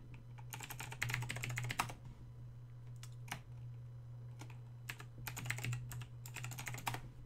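Rapid bursts of computer keyboard typing come in clustered runs with short pauses, close and fairly quiet over a steady low electrical hum.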